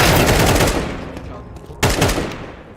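Rapid automatic gunfire in the tactical shooter CS2 (Counter-Strike 2), loud and close, a dense burst that fades over about a second before a second sharp burst of shots breaks in.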